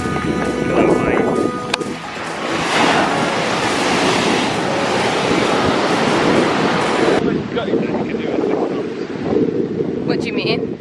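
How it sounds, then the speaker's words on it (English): Big ocean waves break on a beach on Sri Lanka's south-west coast, surging in a loud continuous wash with heavy wind buffeting the microphone; a person talks briefly, and the surf drops back abruptly near the end. "Big waves."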